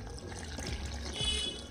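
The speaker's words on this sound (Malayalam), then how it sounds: "ഞാനപ്പോൾ വെള്ളം ഒഴിച്ചു കൊടുക്കുന്നുണ്ട്" A short stretch of water pouring and splashing, close by and moderately loud, with a faint trickling quality.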